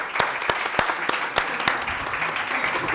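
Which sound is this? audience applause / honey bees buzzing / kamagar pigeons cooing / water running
audience applause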